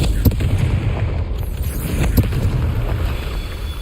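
Confringo fire spell blast in the game Hogwarts Legacy, heard as a few sharp booming hits, one early and one near the middle, over a dense, rumbling battle background.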